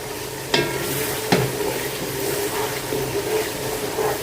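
Spice masala for beef rezala is stir-fried in a pan, a dense close sizzle with two sharp scraping strokes of a spoon early on and a steady bubbling crackle after.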